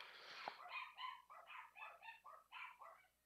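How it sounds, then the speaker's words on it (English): Dogs bark in a frantic string of yips and barks in Library of Ruina, about a dozen quick bursts in uneven rhythm, fairly faint and alone. "And the dogs are going crazy for some reason."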